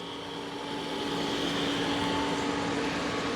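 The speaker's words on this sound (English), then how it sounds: "the dirt is being scraped off and sucked up into the dirty water tank" A steady mechanical whir and suction hum from a Dreame Matrix 10 Ultra robot mop sucking dirty water into its tank, loud and continuous, rising slightly at the start, with no voices.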